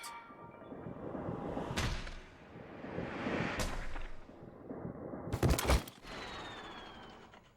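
A gunshot goes off in the video game AI: The Somnium Files, with one loud, sharp crack cutting through busy game sounds, several softer impacts and swishes coming before it.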